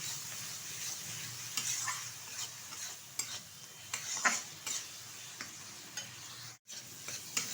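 Shrimp head paste for a jute leaf dish is stir-fried in a pan, quiet scraping spatula strokes recurring every second or so over a soft, steady sizzle, close but faint.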